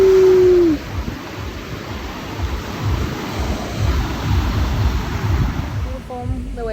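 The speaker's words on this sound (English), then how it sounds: "The waves are really fun." Ocean surf at the beach in Playa del Carmen, Mexico, a steady broadband rush of breaking waves throughout, loud and close, with a brief voice at the start and near the end.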